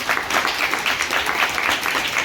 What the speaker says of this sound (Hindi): तालियां बजानी है